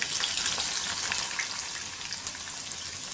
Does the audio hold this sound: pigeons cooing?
no